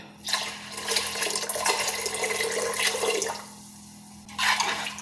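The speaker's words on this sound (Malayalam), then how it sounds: "വെള്ളം ഒഴിക്കുക." Water gushes in a steady, fairly loud stream into a cooking pot for Karkidakam medicinal rice porridge, pausing briefly near the end before pouring resumes, with no talk.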